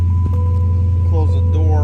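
A 2007 Dodge Magnum SRT-8 Hemi engine, fully loaded with 48,000 miles, catches with a brief thump and settles into a deep, loud, steady idle rumble. A voice speaks briefly over it.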